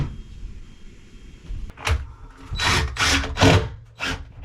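After a quiet start and a click, an impact driver hammers in several short, loud rattling bursts, close up.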